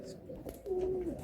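A male pigeon coos once, a soft low drawn-out call near the end, close by over faint background murmur, at a pigeon seller's loft in Naihati, North 24 Parganas.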